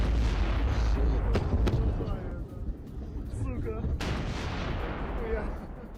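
Heavy booming blasts and rumbling roar from a large explosion at a weapons depot, with sharp cracks and debris-like crackle, loud and sustained throughout.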